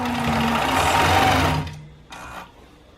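Sewing machine quilting quilt blocks, a steady close mechanical whir for about a second and a half, then stopping, with a brief softer burst of stitching after a short pause; no talking.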